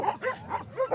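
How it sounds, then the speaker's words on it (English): Several stray dogs bark in quick succession, close and loud, with yips and whining tones mixed in across short repeated bursts, as the pack sets one another off. "like one starts barking, they all start barking"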